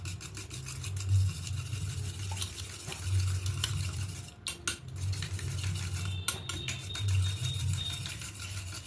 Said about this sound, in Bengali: হ্যান্ড উইস্কে করে খুব ভালো করে ফাটাতে হবে।